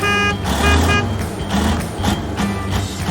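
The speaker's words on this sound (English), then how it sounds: "Cement mixer truck." A cement mixer truck at a construction site gives a steady, close engine rumble with repeated high reversing beeps sounding over it at a regular pace.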